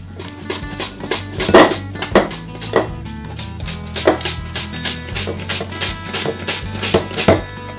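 A knife chops onion finely on a board in a home kitchen, in loud, close, quick rhythmic knocks that keep a steady, slightly uneven pace throughout.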